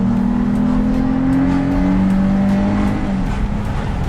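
A Jeep Grand Cherokee fitted with an Apexi open air intake, heard from inside the cabin at speed: a loud, steady engine roar that surges as the throttle is floored and the transmission drops a gear, pitch climbing then easing.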